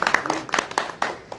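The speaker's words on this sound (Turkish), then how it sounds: "Bir alkış yapın." A few people clap briefly and unevenly in a room, with sparse separate claps rather than full applause.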